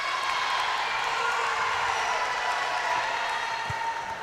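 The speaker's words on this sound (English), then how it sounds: "The crowd's loud and into it already." Steady roar of a high school volleyball crowd in a gym at a Perry at Leslie County girls' match, cheering and applauding after a point, loud and continuous throughout with no break.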